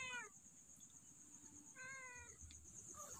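A cat meows twice, a short call followed by a longer one, close by over a steady outdoor hum of insects or wind.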